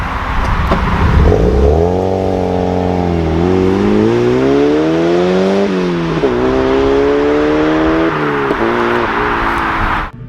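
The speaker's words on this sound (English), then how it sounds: "here's a clip of an NC Miata making some noise" A Mazda Miata NC engine revving up and down repeatedly, loud and close, with rising and falling throttle blips over a gritty exhaust roar for about ten seconds, no one talking.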